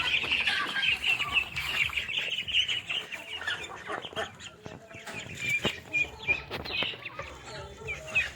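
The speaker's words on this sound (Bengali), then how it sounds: "10-15টা হয়তো দেশি মুরগি আছে, ওটা ডিম পারপাসের জন্য রাখছি।" A flock of local desi hens on a small poultry farm, kept for eggs, clucks and chirps continuously and fairly close, with overlapping calls and no talking.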